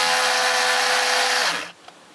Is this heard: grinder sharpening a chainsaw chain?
yes